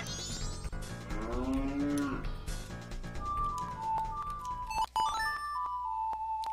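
A cow in the video game Majora's Mask lets out a drawn, wavering moo, followed by game music tones and chimes.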